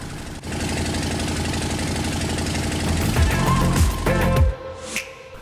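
A Harley-Davidson motorcycle engine idles steadily to warm its oil after an oil change, a loud, close, continuous rumble with a chugging pulse that shifts slightly in pitch near the end.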